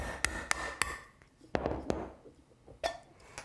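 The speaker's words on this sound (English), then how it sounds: "You'll need to take a small jar and just punch some holes in the top with a hammer and a nail." A hammer drives a nail through the metal lid of a small jar, giving several sharp, irregular taps: three quick ones, then a pair, then a final blow, each close and distinct with quiet gaps between.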